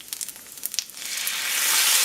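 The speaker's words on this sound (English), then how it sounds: "Now I'm going to add the sesame seeds and continue to brown it a little" Browning meat sizzles in a pan after sesame seeds are added: crackly pops in the first second, then a steady, brightening hiss that swells toward the end.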